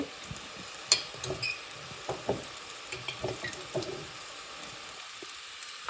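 Ginger garlic paste goes into a pan of browned frying onions, giving a steady soft sizzle with scattered stirring clicks and scrapes close by, no talking.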